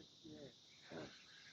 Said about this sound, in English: those cicadas are epic